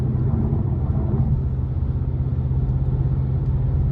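Engine of a 2023 Mercedes-Benz C43 AMG Coupe accelerating through its gears onto an interstate, a steady low rumble heard from inside the cabin, even and sustained with no clear break between shifts.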